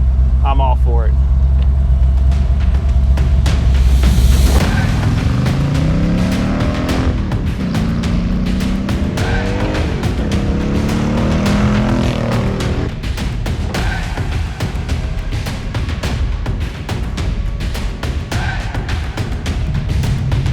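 A 1965 Factory 5 Cobra roars steadily on a test drive, its engine loud and close throughout with shifting pitch as it accelerates and changes gears, while a person talks over the engine noise.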